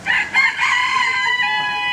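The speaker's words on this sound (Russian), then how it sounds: "Орёт это только петух." A rooster crows loudly and close by in a single full call, holding and fading toward the end, heard on its own.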